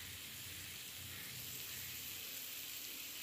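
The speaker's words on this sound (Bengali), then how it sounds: "নুন হলুদ দিয়ে কুমড়োগুলো এবার ভালো করে ভেজে নিতে হবে।" Pumpkin pieces frying in a pan with salt and turmeric for a Bengali prawn and pumpkin curry give a steady, faint sizzle that runs evenly throughout with no talk.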